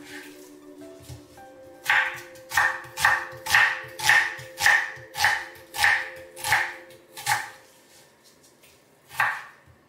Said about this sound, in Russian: Лук нарезаю мелко.